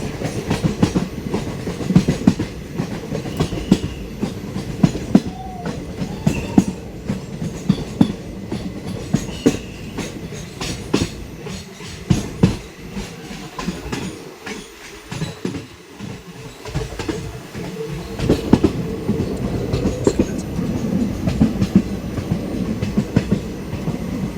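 A long-distance passenger train from Arambagh to Goa rumbles along the tracks, heard from inside the carriage: a loud, steady roar with the rhythmic clickety-clack of wheels over rail joints and occasional rattles, and no voices.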